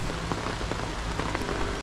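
Steady rain pattering on surfaces in a garden where tomatoes are being transplanted, a dense continuous hiss of drops, close and fairly loud throughout.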